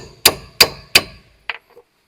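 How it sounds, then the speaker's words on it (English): A hammer taps a steel lower control arm bolt on a Ford Focus: three loud, evenly spaced metallic clangs, then two fainter, quicker knocks, close by with no talking. "I'm going to tap on it, and I'm going to put WD-40 on everything."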